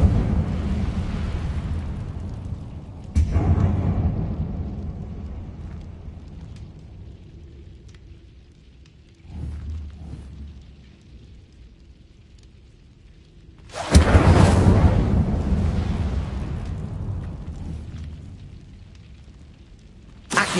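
A fire spell blasts in Hogwarts Legacy: a loud whooshing burst erupts mid-clip and rolls off slowly, with a smaller thump earlier and a low rumbling ambience throughout, no voices.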